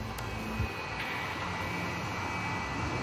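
Aircraft taxiing at Hartsfield-Jackson airport, a steady roaring jet engine drone with a high whine layered on top, constant and fairly loud, with a couple of brief clicks early on.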